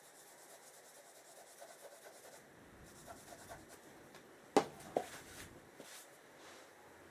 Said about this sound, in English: cut me a little pad to see if I can scrub smaller spots